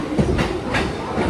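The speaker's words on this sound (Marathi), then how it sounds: "सो मी कल्याणच्या ट्रेनमध्ये जाते आता." Riding aboard a local train bound for Kalyan, the carriage gives a close, steady rumble with repeated clickety-clack beats from the wheels passing over rail joints.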